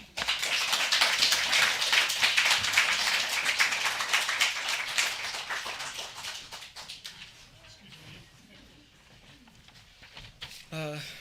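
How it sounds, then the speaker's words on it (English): Audience applause for poet Omar Pimienta at a poetry festival reading, loud dense clapping that swells early then gradually thins and fades, with a brief louder burst near the end. "Round of applause for Omar Pimienta."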